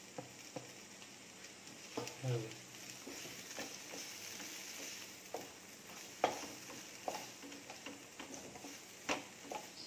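Vegetables frying in butter and sauce for a papdi pizza topping, a steady soft sizzle with scattered clinks and taps of stirring spread across the pan.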